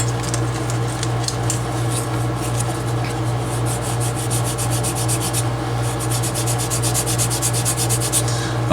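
Hand sanding on a vintage tool chest handle makes a steady, close scratching rub, with quick rhythmic strokes growing more distinct toward the end over a constant low hum.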